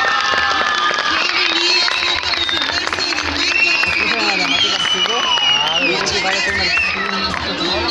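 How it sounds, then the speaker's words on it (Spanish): A crowd at a school event cheers loudly with shouting children and some clapping for a group, a dense, continuous roar of voices. "Un fuerte aplauso, por favor,"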